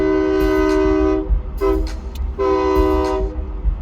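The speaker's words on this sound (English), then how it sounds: "Yay, train!" A train horn blows long, loud chords in two blasts with a short toot between, over rumbling rail noise close by as a train of about 12 cars passes.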